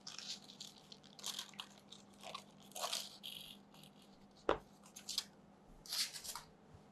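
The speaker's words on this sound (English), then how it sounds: "Here, I'm just going to cut out the edges." A knife trims the edges off a baked eggless mocha brownie on a cutting board, giving a series of soft crunchy, crumbly cuts. A sharper knock near the middle as the blade meets the board; no talk.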